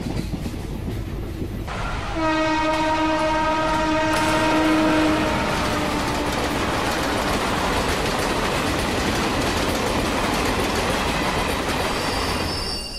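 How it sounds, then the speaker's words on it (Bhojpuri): A train runs along the rails with a steady loud rumble and rattle throughout, while its horn sounds a long blast early on, close by and with no voices. "ई ट्रेन टाइम पे पहुंच जाए वह बड़ बात बा।"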